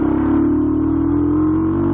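A motorcycle engine being run in revs hard at full throttle, a loud continuous climbing drone that holds strong for two seconds with no talking.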